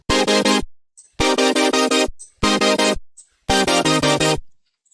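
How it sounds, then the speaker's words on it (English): Future bass synth chords with extended 7th and 11th voicings pulse in four stabbed bursts, each chopped into rapid arpeggiated gates. Short high chirps fill the gaps between them. "This is basically more like future bass kind of sound."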